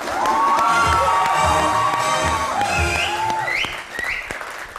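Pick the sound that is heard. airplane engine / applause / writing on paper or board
applause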